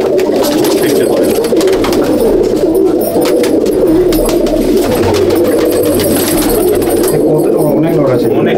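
Male Madrasi pigeons in a loft keep up a loud, unbroken chorus of low cooing nearby, with a voice talking over the birds throughout.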